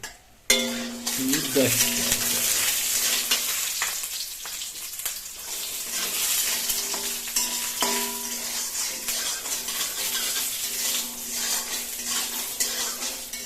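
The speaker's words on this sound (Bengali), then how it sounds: "আমরা এখানটা ডালবড়ি কিন্তু দিয়ে দিয়েছে তেলের মধ্যে আমরা কিন্তু সর্ষের তেল না আমরা কিন্তু সাদা তেল এইখানটা ইউজ করছি" Lentil dumplings (dal bori) fry in white oil, a steady close sizzle running throughout with occasional stirring and utensil scrapes against the pan, no talk.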